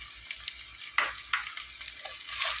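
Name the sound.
kanthari chillies, green chillies and ginger sizzling while sautéing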